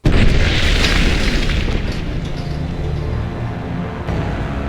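A heavy boom from a Boomers mortar shell in Fallout: New Vegas hits loud and close, then a long rumbling roar and debris settle slowly, with a fainter second thud near the end.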